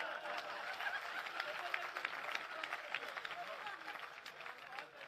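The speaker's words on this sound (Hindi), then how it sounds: "ताली बजाओ।" A crowd at a Hindi poetry recital claps, a dense, fairly faint patter of applause that holds steady throughout with some crowd murmur mixed in.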